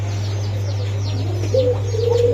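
Pigeons cooing and chirping at a busy pigeon market, several birds calling in overlapping bursts with a low steady hum underneath, the coos growing louder and more sustained toward the end.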